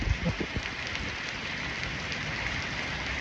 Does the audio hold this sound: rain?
yes